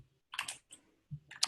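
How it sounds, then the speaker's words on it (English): Heavy typing on a computer keyboard picked up by a microphone on a video call: a few quick bursts of close, clattering key clicks separated by short pauses. "You just had some heavy typing."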